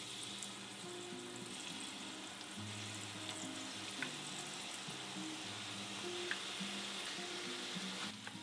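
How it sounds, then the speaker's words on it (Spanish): Chicken flautas fry in hot oil, a soft, continuous sizzle with scattered light pops, quiet and close, with no talk over it. "ya el aceite está caliente, las ponemos a dorar"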